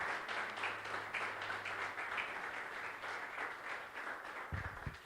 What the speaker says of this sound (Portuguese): Aplaude se está claro para você.